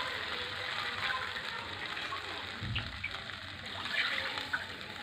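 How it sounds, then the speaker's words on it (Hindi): Water poured into a bowl of maize flour while making makki ki roti, a soft trickling and splashing that runs steadily under faint room noise, with a brief low slosh partway through. "तो मैंने दो बाउल ये पानी डाला इसमें"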